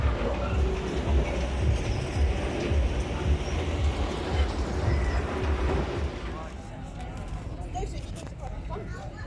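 A passing amusement park ride at Thorpe Park sounds as a loud, sustained rumbling roar with rattling, fading noticeably toward the end, with people talking nearby.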